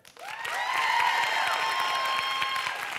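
A studio audience applauds and cheers in a sustained wash of clapping that swells quickly and holds steady, with a long bright whistle-like tone running over it.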